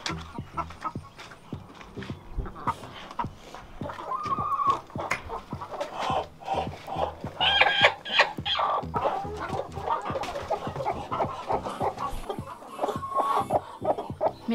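A backyard flock of chickens clucks and chatters near and far in overlapping bursts, with occasional louder squawks rising over a continuous murmur of fowl sounds.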